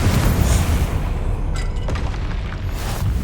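A Confringo fire spell in Hogwarts Legacy detonates with a loud, sustained booming roar, and the dense rumble carries throughout the short moment.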